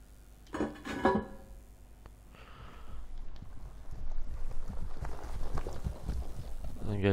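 Galloping horse hooves in Silent Hill 2 build as a muffled, rumbling clip-clop over the second half, faint at first and then steadier, with a voice talking over the start.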